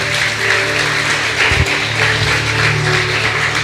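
A church congregation applauds during a sermon: steady, dense clapping from many hands sustains evenly from start to finish, with a low hum underneath and no voices standing out.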